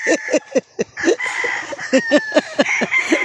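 A gamecock rooster gives a rapid series of short clucks and brief crowing calls, close and loud, in a breeding pen, with faint background noise.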